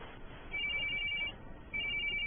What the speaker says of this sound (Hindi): मुझे लगता है मुझे ये फोन उठाना होगा।